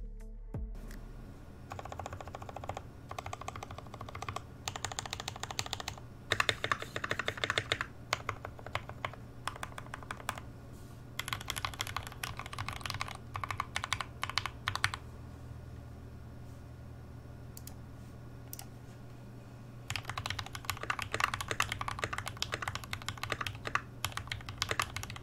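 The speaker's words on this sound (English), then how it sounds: "take a listen to this really thocky keyboard" Typing on a DZ65 mechanical keyboard with a wooden case, a steady run of deep, thocky keystrokes up close, with short pauses between bursts and no talking.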